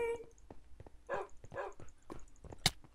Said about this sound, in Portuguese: Ai, para o cachorro! Cachorro!